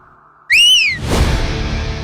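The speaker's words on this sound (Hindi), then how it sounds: "सीटी क्यों बजा रहा है बे?" A sharp, loud whistle is blown once in a short rising-falling blast indoors at a gathering, followed by a burst of broadband noise like laughter or commotion.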